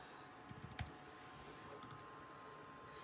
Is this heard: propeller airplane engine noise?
no